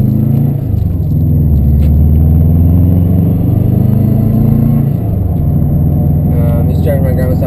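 A Subaru WRX driving, a low steady engine and road rumble heard from inside the car, with a pitch drop near the middle and faint voices at times.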